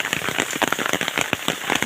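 Rain falls steadily on a village, a dense close patter with scattered sharper drop impacts crackling throughout.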